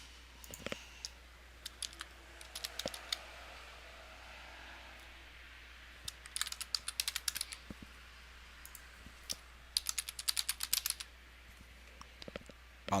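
Typing a username and password on a computer keyboard: bursts of quick, crisp key clicks separated by quiet gaps, fairly close and alone over a faint background hiss.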